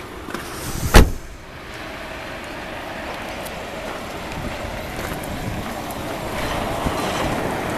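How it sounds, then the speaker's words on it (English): Quiet idle of a 2002 Nissan Elgrand E51 high-spec 3.5L eight-seater, a low steady hum held for several seconds after one sharp brief knock near the start. "engine's very quiet."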